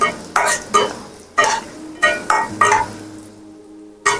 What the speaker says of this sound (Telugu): ఇప్పుడు ఈ మూడు కొద్దిసేపు ఫ్రై అయినంత వరకు ఇలాగా మనం ఫ్రై చేసుకోవాలి